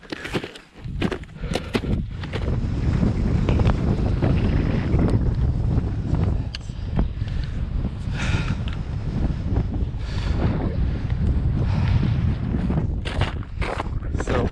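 Strong wind on a Scottish mountain summit (Ben Vorlich, 943 m) in November buffets the microphone in a steady, loud roar with low rumbling gusts throughout, and no clear voices.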